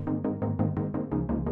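A synth patch with short reverb plays a steady run of about eight repeated notes, each with a short ringing tail, loud and close with no voices.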